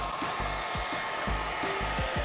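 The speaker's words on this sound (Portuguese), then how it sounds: "Você usa esse secador sempre?" A hair dryer blows steadily on a block of ice during a melting contest, a close, continuous whir with rhythmic low thumps pulsing through it.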